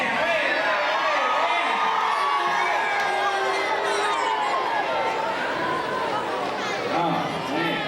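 A large crowd at a tornado safety event cheers, whoops and shouts continuously, a loud sustained roar with children's voices and excited yelling layered throughout.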